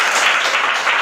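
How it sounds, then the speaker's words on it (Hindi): Audience applause at a live math-trick show, a dense, even roar of many hands clapping at once, loud and sustained for about a second with no talking over it. "तो एक बार जोरदार ताली बजाइए।"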